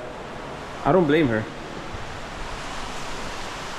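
A hotel shower runs as a steady, even hiss of spraying water, moderately loud, while a person speaks briefly over it near the start.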